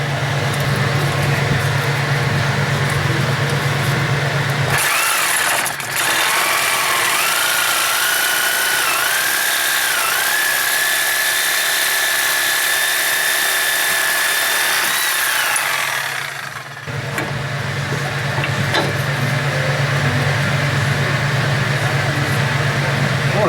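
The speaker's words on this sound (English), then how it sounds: "That's the big Bosch Sawzall." A big Bosch Sawzall reciprocating saw cuts through a bolt on a 1960 Ford F100 4x4 farm truck. It gives a loud, continuous buzzing cut of about eleven seconds with a rising metallic whine, with steady rumbling background before and after.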